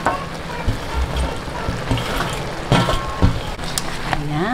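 Mixed vegetables stir-frying in a pan for pancit canton, a steady close sizzle with scraping and stirring clatter running throughout, a few louder knocks of the utensil against the pan.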